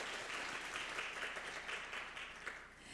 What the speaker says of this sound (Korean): 다시 한번 과학기술정보통신부 이진수 국장님께 박수 한번 부탁드리겠습니다